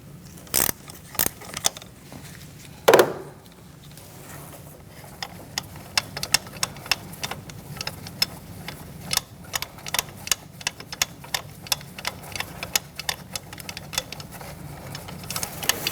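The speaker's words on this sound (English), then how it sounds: "I'm going to use a 10mm wrench. You can use a socket if you want. And we're going to remove these two bolts." A 10mm wrench working the ignition coil bolts on a 2013-2019 Cadillac ATS 2.0L four-cylinder engine, giving sharp irregular metallic clicks and ticks up close, with one louder clack early on.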